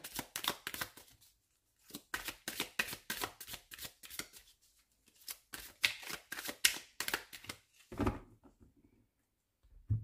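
A deck of oracle cards is shuffled by hand in several quick bursts of crisp riffling and flicking, close and clear, separated by short silences and ending with a few firmer taps as the deck is cut.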